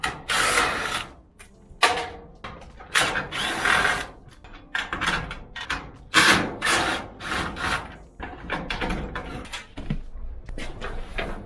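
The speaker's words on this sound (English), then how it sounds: "I'm just going to take off the screws as well, because I'm going to be using this top fixture again." Screws come out of the top fixture of a garage door, giving a close run of ratcheting, grinding turns and scrapes in uneven bursts with short breaks between them.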